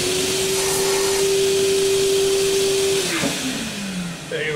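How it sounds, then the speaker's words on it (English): A shop vacuum sucking metal chips out of a drilled hole in a backplate for a Bison 4-jaw chuck, its steady loud motor whine running alone and then dropping in pitch as it winds down near the end. "I can vacuum them."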